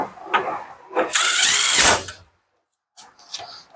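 A power drill drives screws into an LG front-load washer during a bearing replacement, giving one loud whirring burst after some softer handling clatter, then a pause and a few light clicks.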